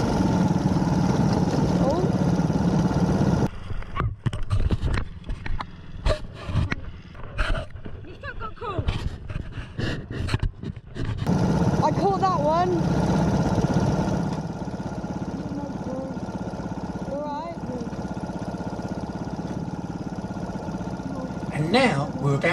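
A trail motorcycle on a dirt mountain track with steep roadside drops, its engine droning and idling unevenly, sputtering and cutting out in stretches, with voices talking over it.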